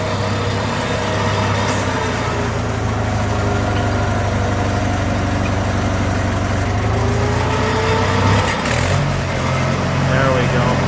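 A Farmall 400 tractor engine idling at low throttle, not under load, a steady loud low rumble close by that holds even throughout, with a brief clunk near the end.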